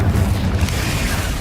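A Confringo spell explodes in Hogwarts Legacy, a dense, continuous low booming burst that stays loud and rumbling throughout the short moment.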